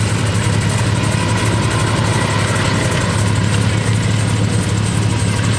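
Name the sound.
Polaris Scrambler 500 ATV engine accelerating on ice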